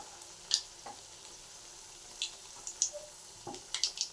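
Luchi deep-frying in hot oil in a home kitchen, giving a soft steady sizzle with a few sharp crackles and spatters scattered through the short stretch, fairly quiet and close.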